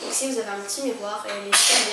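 Someone talking in French is cut off by a single sharp, breathy sneeze near the end, loud and close.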